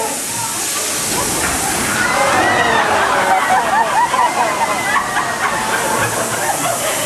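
A physical-effects water splash on a studio backlot tour set releases a loud rush of pouring and sloshing water that swells after a couple of seconds and keeps churning, with voices talking around it.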